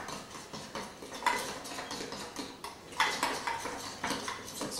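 Pancake batter made with almond milk being mixed in a bowl, with quick, quiet clinks and scrapes of a utensil against the dish in an uneven rhythm, heard close.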